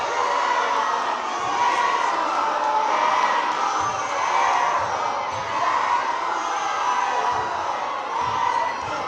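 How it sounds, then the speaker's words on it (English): A home crowd at a boys' high school basketball game on senior night roars and shouts in a dense, continuous wall of cheering that fills the gym, loud and sustained throughout. "Burlington crowd is ruthless"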